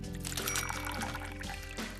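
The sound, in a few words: pouring fresh water into cashews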